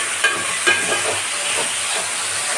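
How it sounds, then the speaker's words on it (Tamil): Steady broadband hiss of steam rising from a pot of kanakatha fish curry as the lid is lifted, with a couple of faint clicks near the start and no voices. "மூடி எடுக்கிறேன்."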